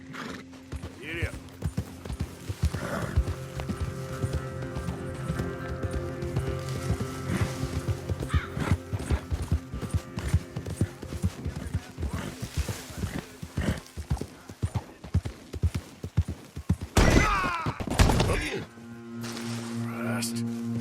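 A horse in Red Dead Redemption 2 gallops with fast, rhythmic hoofbeats close up, whinnies and snorts along the way, and a voice speaks over the running.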